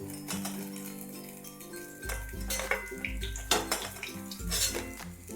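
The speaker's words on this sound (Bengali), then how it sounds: "ভাজা হয়ে গেছে, এবার এগুলো আমি তুলে নিচ্ছি।" A utensil clatters against a frying pan as fried Maggi noodle pakoras are lifted out of the oil, with repeated metallic clinks and scrapes close by and no talking.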